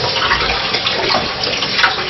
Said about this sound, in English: We're going to rinse it cold water again.